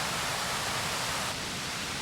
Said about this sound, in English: Last shot of some waterfalls before I head up